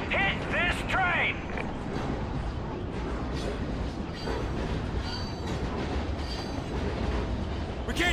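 A rumbling train in Call of Duty: Ghosts with metallic squeals and clatter, loud and continuous, mixed with game-style effects and a brief voice.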